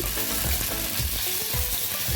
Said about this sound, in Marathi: नंतर कढईत थोडस तेल टाकून हिरवी मिरची